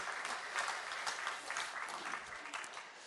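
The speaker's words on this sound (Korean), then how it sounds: "우리 신지한 어린이를 위해서 힘차게 영광의 박수 올려드리겠습니다." A church congregation claps for a child during a Sunday service, a brief, steady burst of many hands applauding in a reverberant hall.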